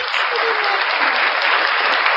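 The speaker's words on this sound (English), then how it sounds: "Round of applause" Dense, loud applause from a crowd, steady clapping filling the whole moment and cutting off abruptly at the end.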